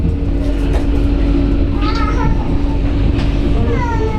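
Hamburg metro train in motion, a steady rumbling ride heard from inside the car, with brief higher squeals or chimes and some voices underneath.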